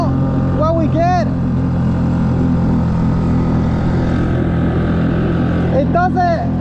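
A Honda 5HP outboard motor with a 15-inch shaft drives a Sea Eagle FastCat12 boat against the current in a loud, steady drone, with wind and water noise and brief voices over it.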